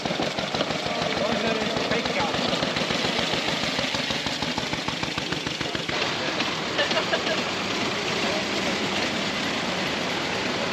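A 1911 veteran motorcycle engine idling at a veteran rally, a rapid even mechanical chuffing and clatter that runs steadily and close throughout, with someone speaking over it.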